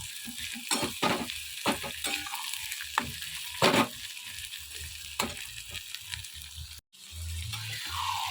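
Onions fry and get stirred in a kadai pan, a steady sizzle under repeated scraping strokes of a spatula, close by, with a brief pause near the end before the frying resumes.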